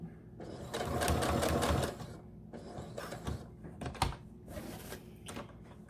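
A sewing machine stitches fabric for a face mask, running in close bursts of rapid mechanical chatter separated by short pauses and clicks.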